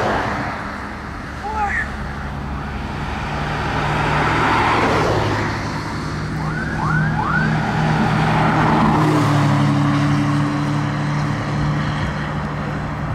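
A Lamborghini SVJ carrying a roof box drives past at a Gumball 3000 event in Calais, a steady engine and road roar swelling from about 4 to 10 seconds amid street crowd noise and bystander chatter.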